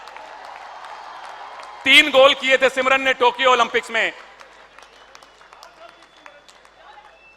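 An audience at an Olympic honours ceremony applauds a Tokyo Olympics hockey player, loud rhythmic clapping bursting in for about two seconds over someone speaking in Hindi through a reverberant PA, then fading back to his voice.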